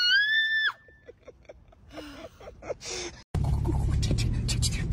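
A woman gives a short high-pitched scream in an office when a coworker's scare prank startles her, followed by gasps, scuffling and loud noisy movement.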